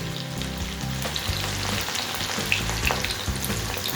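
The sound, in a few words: corn kernels frying in a pan for crispy corn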